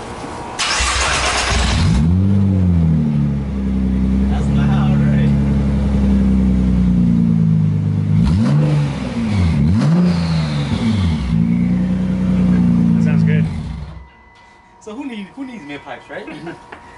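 A 2019 Nissan GT-R with straight downpipes and no midpipe revs hard, several loud rising blips over a rumbling idle, close and aggressive, then cuts off as people talk nearby.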